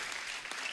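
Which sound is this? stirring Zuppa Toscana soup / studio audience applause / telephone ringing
studio audience applause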